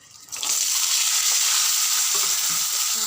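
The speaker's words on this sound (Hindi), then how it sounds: "अब डाल देते हम छोले वाले चना ला" Chickpeas hit hot oil in a pan with fried garlic and bay leaves and burst into a loud, steady sizzle that carries on without pause. There is no talk over it.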